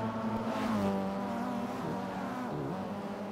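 Mitsubishi Evo X race cars lap the Trial Mountain circuit, a sustained engine drone rising and falling in pitch as they brake and accelerate through a corner, moderately distant and unbroken.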